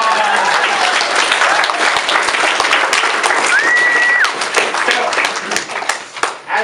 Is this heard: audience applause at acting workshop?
yes